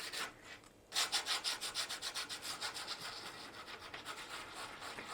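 Heavy-grit sandpaper rubbing over painted wood to distress the finish, a steady run of close, rhythmic back-and-forth scratching strokes after a brief pause, with no talking.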